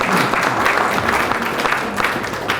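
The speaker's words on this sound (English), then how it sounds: "Please give her a round of applause again." A conference audience applauds at a Southern California business development event. Dense, steady clapping fills the whole stretch at moderate loudness, with no voices over it.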